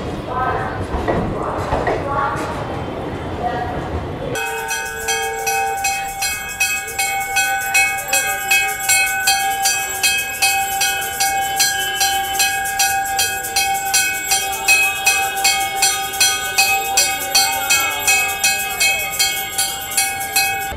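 A train pulls into an Indian railway station at night, a rhythmic clatter of wheels over rail joints repeating steadily with steady hum, while someone talks over the first few seconds.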